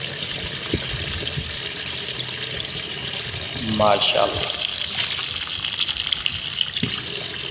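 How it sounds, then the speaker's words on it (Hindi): Soaked lentils are rinsed under running water, a continuous splashing wash with a brief swirl of sloshing midway, while a person speaks over it. "पानी से आपने अच्छी तरह दाल को साफ़ कर लेना है, धो लेना है।"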